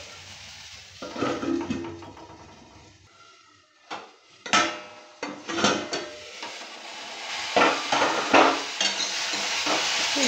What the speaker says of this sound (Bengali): এবার এইভাবে ঢ্যাঁড়সগুলোকে ভালো করে ভেজে নেব